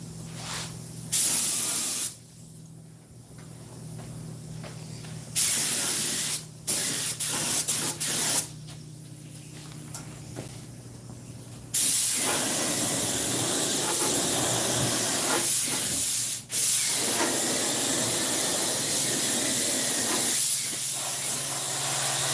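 Rust-Oleum spray paint hisses from an aerosol can onto the raw metal frame of a 1950 Ford truck seat, in several loud close bursts of varying length separated by brief gaps, with no talking.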